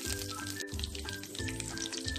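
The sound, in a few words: curry leaves sizzling in hot sesame oil with mustard seeds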